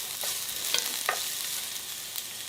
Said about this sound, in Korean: 팬에 식용유를 두르고 양파 먼저 넣고 볶으세요